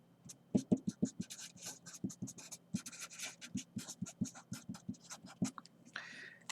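Chalk or marker writing on a classroom board during a math lecture: a quick series of short taps and scratchy strokes in an irregular rhythm, close and fairly clear, with no talking over it.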